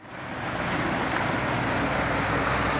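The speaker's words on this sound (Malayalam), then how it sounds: "ഇതൊരു ചെറിയ വെള്ളച്ചാട്ടമാണ്." A small waterfall on a hill route in Idukki rushes steadily and loudly, a dense broadband roar that rises slightly at the start and then holds constant, with no talk.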